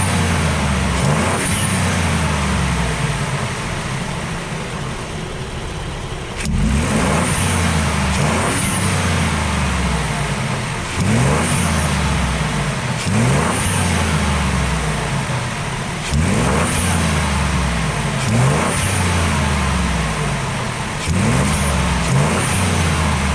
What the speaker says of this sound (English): you guys are gonna be able to hear that awesome turbo flutter that comes out of this Bronco